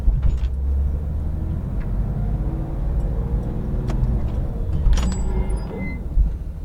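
A Porsche 911 GT3 RS of the 991 generation pulling away and driving, its engine a steady low rumble inside the cabin, with a few faint clicks and knocks on top.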